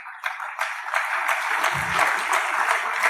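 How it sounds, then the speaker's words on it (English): Conference audience applauding at a plenary session on global education, a steady dense wash of clapping that builds quickly and holds for a few seconds with no voices on top. "can we put our hands together for the program so far?"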